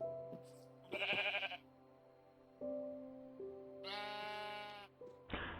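Sheep in Minecraft bleating in short wavering calls, two louder bursts standing out over a steady game background, with a sharper sound at the very end.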